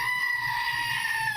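A goat gives one sustained, nasal, wavering bleat, loud and close, lasting the whole moment without pause.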